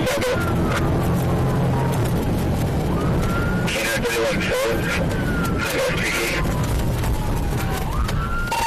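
A police siren wails and yelps continuously during a high-speed car pursuit, amid loud engine and road noise, with voices talking underneath.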